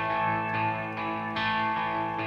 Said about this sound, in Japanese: オクターブ上にちょっと音が重なってるんだ。 そうそうそう、あといろいろフランジャーがちょっとかかったリバーブとか